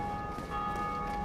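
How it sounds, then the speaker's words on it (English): A steady ringing church bell tone in the video game Dark Souls, with sustained overtones, continuous and fairly loud throughout the short stretch, no voices. "Somebody ringing that church bell."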